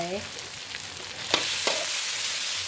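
Pork belly frying in a pan with a freshly pounded spice paste gives off a loud, steady sizzle that fills the whole stretch, broken by a couple of sharp clacks from stirring. No one speaks over it.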